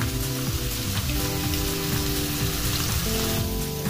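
Meat sizzles in a hot pan for pancit, a steady, loud crackling hiss that never lets up, heard alone with no talking.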